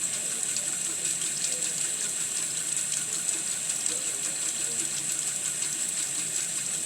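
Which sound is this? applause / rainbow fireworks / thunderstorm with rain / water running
water running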